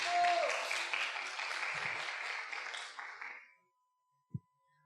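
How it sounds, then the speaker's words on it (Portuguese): Audience applause at a church gathering, clapping spread across the room for about three seconds before fading to quiet, with a brief low thump afterward. "Uma salva de palmas para o Paulinho."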